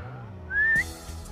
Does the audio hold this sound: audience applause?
no